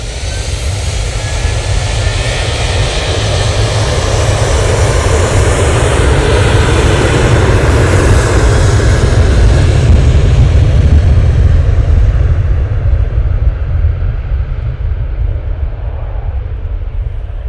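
An aircraft comes in to land at Manchester Airport, its jet noise a loud sustained roar that builds toward the middle and then eases as it passes, with heavy low rumble beneath.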